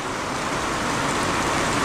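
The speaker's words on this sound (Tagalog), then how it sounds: "Lagi na lang umuulan," Steady rain hisses continuously over a vegetable garden of eggplant and string beans, a dense broadband wash with no voices or breaks.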